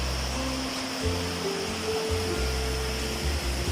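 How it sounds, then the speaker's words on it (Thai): Water from Pa Wai waterfall, Thailand's red waterfall, rushing steadily at the top of the falls before it drops below, a continuous broad roar with a low droning hum beneath, close and even throughout. "น้ำก่อนที่จะไหลลงสู่น้ำตกด้านล่าง"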